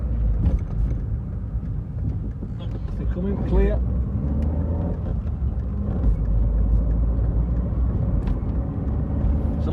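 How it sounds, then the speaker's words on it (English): A Ferrari car driving down the slopes of Mount Teide on Tenerife, its steady engine and road rumble continuous and fairly loud throughout, with people talking over it. "The Ferrari's doing all right. The Ferrari's keeping us going."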